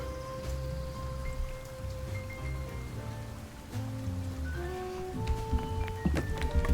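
Steady rain in the video game Duck Detective: The Secret Salami, a continuous soft patter running under tonal game music with no talking.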